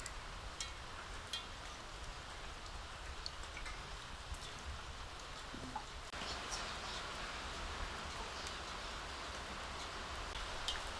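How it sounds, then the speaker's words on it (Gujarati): Unseasonal rain falls over farm fields in a soft, continuous hiss with scattered drop taps, heard faintly and evenly throughout without speech. "જો પાછો વરસાદ શરૂ થઈ ગયો"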